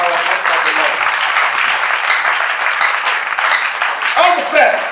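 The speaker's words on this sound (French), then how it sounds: "Clap our hands at the Lord." A church congregation clapping their hands in praise produces dense, loud, sustained applause for several seconds, with voices calling out over it near the end.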